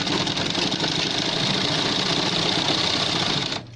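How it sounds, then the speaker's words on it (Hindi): A sewing machine stitching a men's shirt collar runs in one continuous, rapid mechanical whir, close and loud, then stops abruptly just before the end. "इसकी सिलाई स्टार्ट करते हैं"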